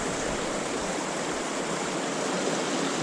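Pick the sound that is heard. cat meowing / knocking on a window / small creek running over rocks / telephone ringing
small creek running over rocks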